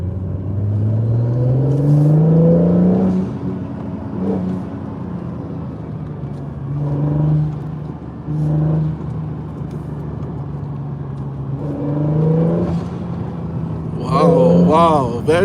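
Acura NSX sports car accelerating on a drive, its engine note climbing and falling through several gear changes from inside the cabin, loud and steady, with a person talking over it.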